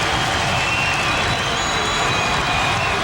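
A roaring basketball arena crowd at a Notre Dame at Rutgers men's college game swells in a loud, continuous, dense wall of cheering and noise with no clear breaks.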